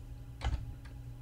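A couple of quiet, close keystrokes on a computer keyboard: one short double tap and then a lighter single click, with no talk.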